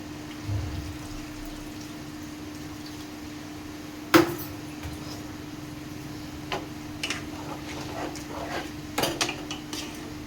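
A pot lid clinks onto a pan of bottle gourd and shrimp curry in a home kitchen, with one sharp metallic clatter and a few lighter knocks over a quiet hum.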